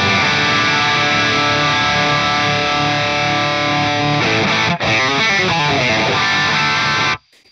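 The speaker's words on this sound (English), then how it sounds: "let's just pick a random amp model, say another Cameron, CCV 2D, sounds like this." Heavily distorted electric guitar through a Cameron CCV 2D amp model on a Fractal AX8, a loud sustained saturated chord ringing for several seconds, then choppier strummed chords before an abrupt cut to silence.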